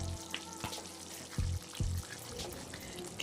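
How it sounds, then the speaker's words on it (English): Curry leaves fry in a chicken and tomato stew on a gas stove, giving a faint, steady sizzle with a few soft knocks from the pot. "Just allow it to fry or cook for just a minute more"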